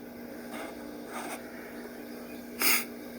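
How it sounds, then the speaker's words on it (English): Three short sniffs spaced about a second apart, the last one sharper and louder, set against a steady low hum with no talking. "I get the sniffles now"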